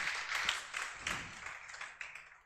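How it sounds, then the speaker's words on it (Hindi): A seated audience claps to welcome teachers at a Teacher's Day celebration in a classroom, a short burst of scattered hand claps that fades quickly, moderately loud and without talk. "एक बार सभी गुरुजन का ताली बजाकर स्वागत करें।"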